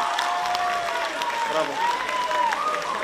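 Applause and cheering from a school freshman ball audience, a continuous crowd wash with clapping, and tonal whistle-like squeals and shouting on top.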